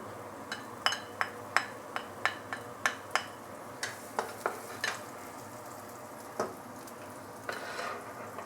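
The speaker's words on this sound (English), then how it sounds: "Then we are going to add in the shallot and garlic and saute it for a while." Shallot and garlic sauté in a few tablespoons of oil for Maggi mee goreng, a soft constant sizzle punctuated by a rapid series of sharp spatula taps and clinks against the pan, with no talking.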